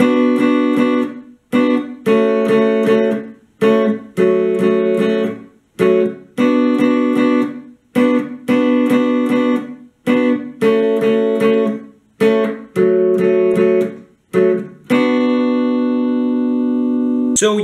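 Electric guitar plays a pre-chorus chord pattern in short rhythmic bursts separated by brief gaps, ending on a sustained ringing chord.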